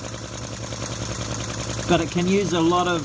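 A Chinese model vacuum V-twin engine with PC heatsinks runs with a steady, fast mechanical ticking and humming close by, while someone talks over it in the second half.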